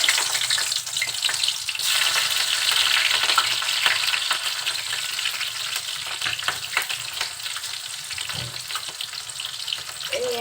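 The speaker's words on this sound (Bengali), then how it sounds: "তেলটা একটু গরম হলে দিয়ে দিচ্ছি পেঁয়াজ কুচি আর কাঁচা ঝাল।" Chopped onion and green chili fry in hot oil with a steady loud sizzle and occasional stirring scrapes, close and continuous with no voices.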